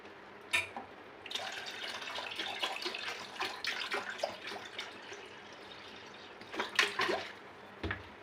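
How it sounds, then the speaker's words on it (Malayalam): Water pours and splashes in uneven bursts, with a few sharper sloshes and drips standing out against a running trickle. "എന്തായാലും ഞാൻ കുറച്ച് വെള്ളം ഒഴിക്കാൻ പോവാം"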